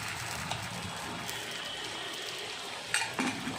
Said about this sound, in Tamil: எண்ணெய் ஊற்றியாச்சு இப்போ மாவு ஊற்றிக்கிறோம்